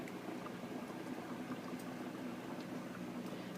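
Air from a Tropic Aire humidifier's valves bubbles steadily through water, a soft, continuous fizzing and gurgling at low volume.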